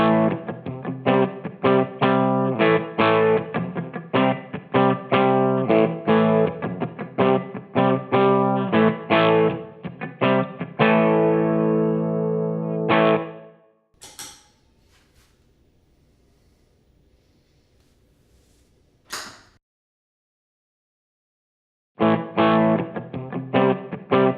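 An electric guitar runs through a BOSS EH-2 Enhancer pedal, strummed in loud repeated chords with the setting switched, then a pause with faint clicks and handling before the chords return.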